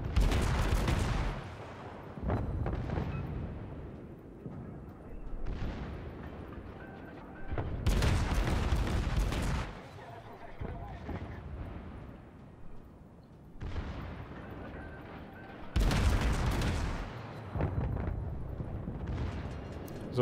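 Naval guns firing from the HMS Belfast, a tier 7 cruiser in the World of Warships video game, heavy booming salvos repeating every few seconds with rumbling decay between them, loud and close, no voice heard.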